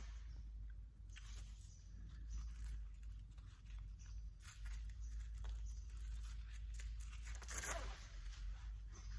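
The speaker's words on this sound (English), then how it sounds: "it's a Velcro," A Velcro quick-release lifting belt is pulled open and pressed shut, giving faint, close ripping and crackling scratches in scattered bursts across a quiet background.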